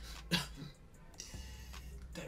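A single sharp cough or throat clear close to the mic, followed by quieter breathing and faint room noise.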